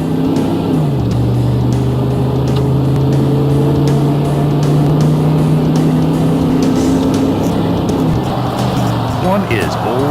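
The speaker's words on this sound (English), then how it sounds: "Now try some upshifts at 3/4 throttle to see how the shifts get firmer with throttle." A GM 4L80E-HD2 automatic transmission upshifts at three-quarter throttle, steady loud engine drone stepping down in pitch at each firm shift, with someone talking over it.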